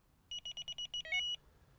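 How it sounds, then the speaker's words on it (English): A Delkim fishing bite alarm buzzer sounds seven quick, evenly spaced beeps, then one slightly longer warbling tone, fairly clear against a quiet background. "so just activate the first buzzer"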